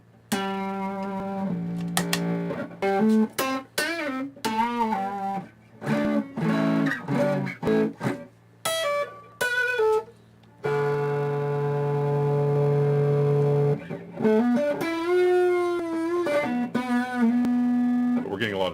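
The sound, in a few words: guitar through Dumble Overdrive Special amp build, distorted tone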